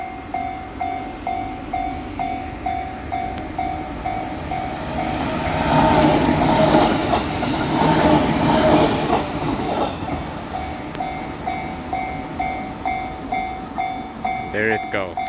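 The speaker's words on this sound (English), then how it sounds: "Oh, it is a passenger train." A passenger train rolls past along tracks beside a seaside town in Japan, a steady rumble swelling toward the middle and fading, with rhythmic wheel clatter and a brief squeal at the end.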